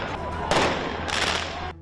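Fireworks go off over a street during a protest, loud crackling bursts in two main surges over a continuous roar of crowd noise.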